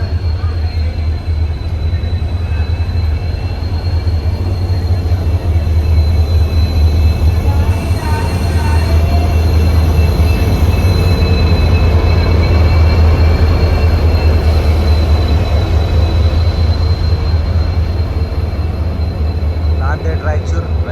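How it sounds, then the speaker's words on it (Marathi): Raichur Express 17664 pulls into platform 1 at Hazur Sahib Nanded, coming in from pit-line maintenance: a loud, steady low rumble of rolling coaches that holds throughout, with faint voices in the background. "मित्रांनो, आपली ट्रेन 1 नंबर प्लॅटफॉर्मवर येत आहे."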